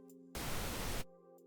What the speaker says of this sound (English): we found ourselves some pink noise